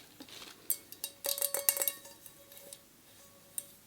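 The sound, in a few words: set of two blue and white mixing bowls being handled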